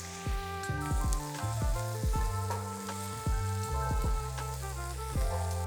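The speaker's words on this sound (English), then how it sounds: "Now add your garlic. And we'll fry them till they're fragrant." Onions and garlic sizzle and fry in a pan, with steady crackling and repeated clinks and scrapes of stirring close up.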